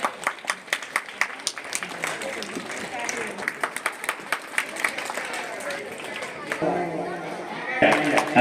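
An audience claps at a school anniversary ribbon-cutting ceremony, starting with a few crisp separate claps that swell into dense, continuous applause, with voices talking over it and a louder burst near the end.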